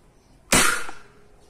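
A single sharp, loud gunshot cracks close by as a round is fired at a helmet in a test shot, then rings briefly before fading.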